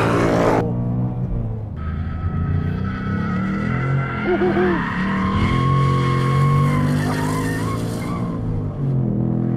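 A sports car, either a BMW M2 Competition or a Ford Mustang Bullitt, is driven hard on a track, the engine droning and shifting while the tires squeal and skid in long sustained screeches, close and loud.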